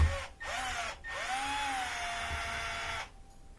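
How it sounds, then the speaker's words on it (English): Small Phillips head screws on an LED porch light bracket being backed out with a powered driver: a close motor whine that rises and falls in several short runs, with brief pauses between them and no talking. "I'm just going to take out one of these little Phillips heads"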